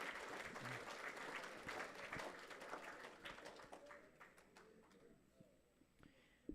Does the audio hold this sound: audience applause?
yes